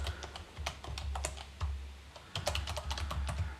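Someone types code on a computer keyboard, producing a quick, close run of crisp key clicks with a short pause partway through.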